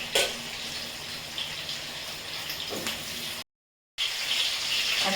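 Vegetables and potatoes fry in hot oil in a pan with a continuous near sizzle and hiss, broken by an occasional stir and a brief gap, with no one talking.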